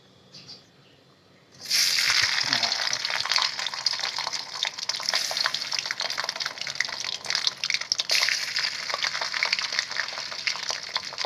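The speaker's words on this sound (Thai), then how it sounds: "อันนี้เราจะทอดไล่น้ำมัน" Sago palm weevil larvae drop into hot oil at about the two-second mark and set off a loud, steady crackling sizzle that carries on to the end of the clip, with no talking over it.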